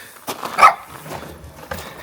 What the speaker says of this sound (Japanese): 吠えるんですけど、見たらね、